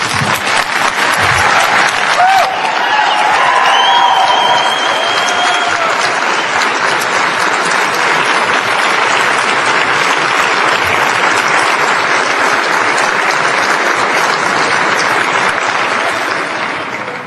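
Audience at a public campaign gathering about saving the Mount Soledad cross applauding loudly and steadily for the whole stretch, a dense wash of clapping with a few brief whistles early on.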